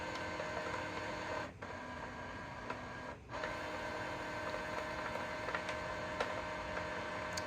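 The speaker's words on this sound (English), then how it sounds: "Should start feeding the paper in here shortly from this ADF feeder." An HP OfficeJet 3830 printer's automatic document feeder runs with a steady mechanical whir and hum, steady throughout apart from two short dips, with faint ticks over the drone.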